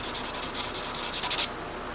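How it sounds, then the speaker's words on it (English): Sandpaper rubbing along the fretboard of a handmade Strat-style guitar neck, giving a run of quick, close back-and-forth scratchy strokes that stop abruptly near the end, with no talking. "I just keep folding this piece of sandpaper up and hold it on its edge and get all those scratches out"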